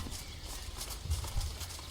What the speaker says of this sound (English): I try to mount my horse, but apparently I haven't paid my road tax.